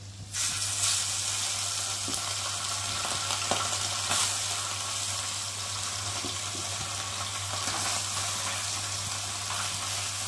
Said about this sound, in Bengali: আর এখন তেলটা গরম হয়ে গেছে আর একে একে মাছগুলোকে দিয়ে ভেজে নেব।